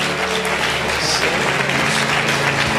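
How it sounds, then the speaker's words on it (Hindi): A congregation at a prayer retreat centre in Ludhiana claps loudly for Jesus during worship, a thick continuous wall of clapping with a low musical hum and faint voices mixed underneath. "Come on, give a big hand to Jesus."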